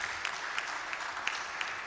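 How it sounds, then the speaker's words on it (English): Audience clapping at a digital Africa conference as the minister comes forward to the stage, steady, moderately distant applause from a large hall, with a few sharper individual claps. "Please keep clapping until he gets here."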